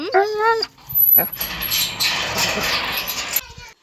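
A dog close by gives loud, sharp yelping barks with whining tones, followed by a burst of rough, noisy sound that fades out abruptly.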